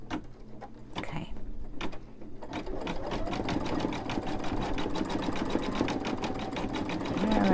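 An embroidery machine stitches a Dollar Tree potholder, its needle hammering in a fast, steady mechanical rhythm with a whirring hum, close and continuous.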